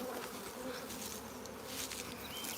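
Honey bees buzz steadily around a nuc box during a transfer into a hive, a dense continuous hum close by without pauses.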